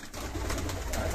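A pigeon gives a brief, soft coo over a steady low background hum, lasting about a second.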